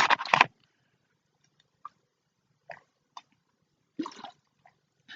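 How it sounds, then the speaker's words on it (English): Someone drinks water from a bottle: a loud gulp or slosh at the start, then sparse soft swallows and small mouth sounds in near silence, with a final burst of swallowing noise. "A little bit unladylike drinking from the bottle"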